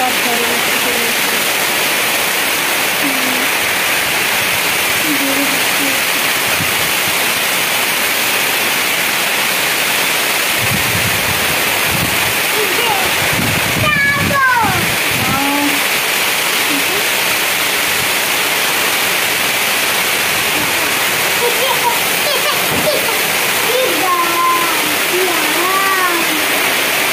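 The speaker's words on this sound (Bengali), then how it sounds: "বেরোবার সময় বৃষ্টি জোরে" Heavy rain pours outside a home, a loud and unbroken hiss, with a few faint chirping calls in the background partway through.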